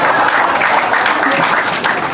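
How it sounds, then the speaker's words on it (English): Steady, dense clapping from a comedy audience, sustained throughout and fairly loud, like an audience applauding in a room. "Thank you for applauding Al-Qaeda meetings."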